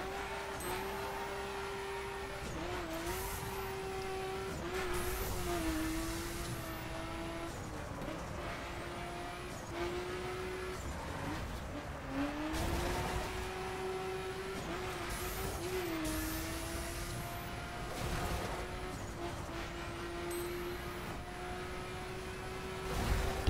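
Engine of a sports race car in The Crew video game drones and revs steadily through an uphill circuit section, pitch rising and dipping through gear shifts, with occasional tire squeal and thumps of the road.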